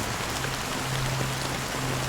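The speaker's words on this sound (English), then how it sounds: "How long has this rain been ongoing?" Steady rain falls in Penacony in the video game Honkai: Star Rail, a constant even hiss of drops on surfaces with a faint low tone humming underneath.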